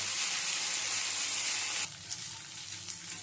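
Crushed ginger, garlic and green chilies sizzle loudly in hot mustard oil, then the crackle drops sharply partway through to a quieter frying hiss broken by a few stirring clinks.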